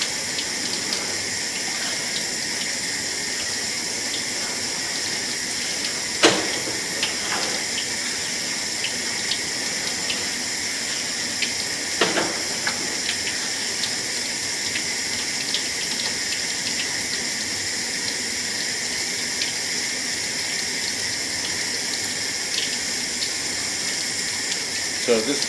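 Water runs into the plumbing of a house, a steady hiss and gush that continues throughout, broken by a few sharp clicks and knocks.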